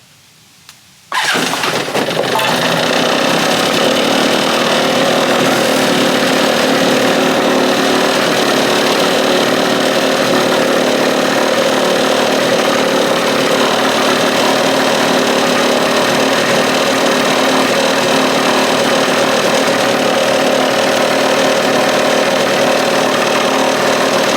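A stand-up jet ski engine starts abruptly after a second of quiet, then idles loudly and steadily at close range with a constant buzzing drone.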